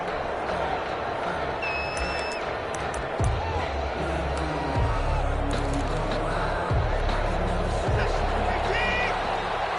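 Stadium crowd at an NFL video game matchup between the Houston Texans and Indianapolis Colts, a steady dense roar of fans with scattered whistles and thuds throughout, commentary voices underneath.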